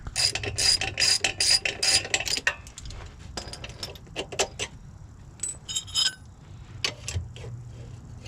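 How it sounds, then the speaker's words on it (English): A ratchet undoes a 12 mm bolt on a 1999 Honda Civic shifter, with bursts of rapid metallic clicking in short strokes, close and crisp, separated by quieter handling noises and no speech. "we're gonna undo the 12 millimeter bolt right here, pull it out"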